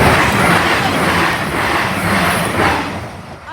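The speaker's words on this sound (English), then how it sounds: "Oh, I hear the train." A train passes Emly level crossing as a steady, loud rumble with rail noise that lasts throughout and eases slightly toward the end.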